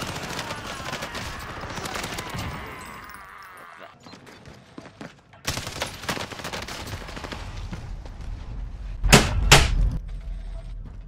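Gunfire from a doll-head gun in the shooter game Warzone comes in loud, rapid bursts, with a final sharp volley standing out near the end.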